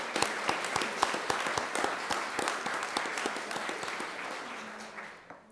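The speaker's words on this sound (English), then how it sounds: "Please join me in a round of applause for all these wonderful volunteers." An audience at an alumni reunion awards ceremony claps for volunteers, a dense burst of applause that holds steady, then thins and fades near the end.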